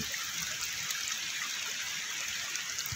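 Floodwater running down from a mountain pours through a roadside concrete canal during a typhoon in Palarao, Leyte, giving a steady, close, rushing hiss of flowing water with no voices.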